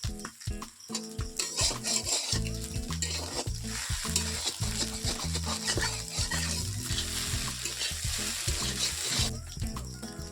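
Fried potatoes and chicken for chowmein are stir-fried together in a hot pan, making a steady loud sizzle with continuous scraping and tossing of a utensil, close and without speech.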